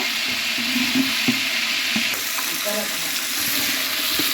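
Ginger-garlic paste sizzles as it roasts in a pan, a continuous close hiss that holds steady with a few faint clinks.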